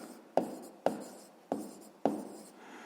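Pen strokes writing out a math expression in a sixth-grade lesson: four distinct scratchy strokes, each starting sharply and fading, spaced roughly half a second apart, close and clear with no talking.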